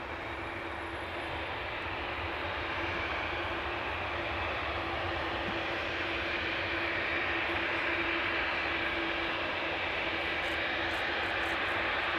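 A Boeing 787 Dreamliner airliner passes over Amsterdam Schiphol Airport with a loud, steady engine roar and broad rushing noise that holds level for the whole stretch, with a faint whine underneath.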